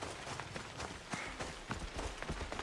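Horse hooves clip-clop at a quick, steady trot, fairly close and clear, with a low murmur of background sound.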